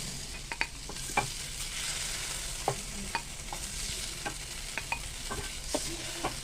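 Oil sizzles steadily in a wok as eggplant fries until reddish-brown, with occasional scraping stirs and light pops over the continuous hiss.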